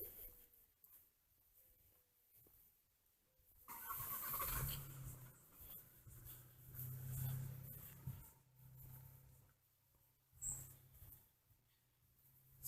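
A car rolls past on a city street, swelling up out of quiet, staying loud for several seconds, then fading away, with a brief second surge near the end.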